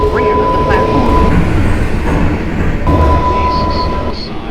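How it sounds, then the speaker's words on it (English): An R142A 6 local subway train rumbles into a station at Grand Central-42 Street, a loud continuous roar of wheels and motors with a steady tone and brief high squeals, while a voice speaks over it. "There is a downtown local train approaching the station."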